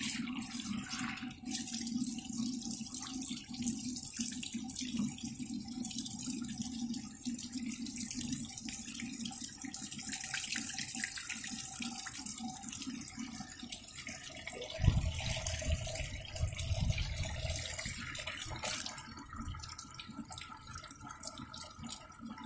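Tap water runs steadily to rinse out a water storage tank, a continuous hiss and splash with a brief heavier gush partway through, close and moderately loud, no voices.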